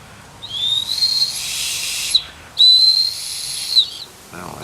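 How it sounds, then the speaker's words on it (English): A survival kit whistle blown twice in sharp, shrill blasts, each lasting well over a second with a breathy hiss, separated by a short gap and heard close up. "It's only a whistle, nothing else."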